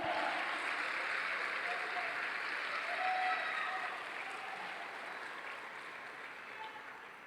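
Church congregation applauding during a Portuguese-language sermon, a steady broad wash of clapping that holds strong for several seconds and then slowly thins, heard fairly close within the hall.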